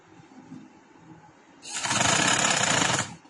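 A sewing machine stitches a collar onto the neckline of a ladies' shirt in one steady, fast mechanical burst of about a second and a half, close and loud after quiet room noise.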